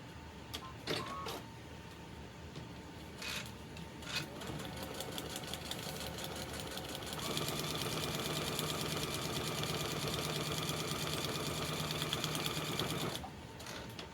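A sewing machine stitching the last two pieces onto a temperature quilt: a few short bursts of stitching, then one longer steady run of rapid mechanical whirring and ticking, close and moderately quiet, stopping near the end.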